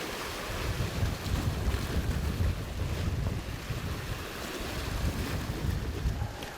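Strong wind roars steadily across open sea during a fishing trip, buffeting the microphone with a broad, constant rush mixed with waves slapping around the boat, with no voices.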